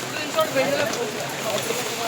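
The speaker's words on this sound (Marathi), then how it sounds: "पाऊस बघा पाऊस थांबायचं काय नाव घेत नाहीये" Steady heavy rain makes a continuous wash of patter on surfaces outdoors, with faint speech mixed in.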